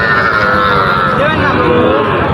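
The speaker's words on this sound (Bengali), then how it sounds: "এ পাশে কিছু গরু আছে" Cattle at a rural livestock market low in long, drawn-out moos that rise and waver, loud and close, over a busy crowd murmur and someone talking.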